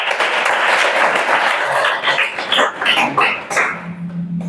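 Applause from a class of students, a dense burst of hand clapping that rises together and then thins into scattered claps and murmurs toward the end.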